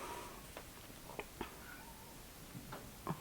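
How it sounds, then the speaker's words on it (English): Several soft cat meows scattered across a quiet indoor room, faint and irregular, with short tonal calls popping out over low background hiss. "Kitties are actually meowing today"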